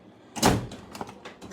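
Metal toolbox drawer sliding open in a mechanic's garage, a sharp rolling scrape followed by a few lighter clicks and rattles as it settles, close and fairly loud.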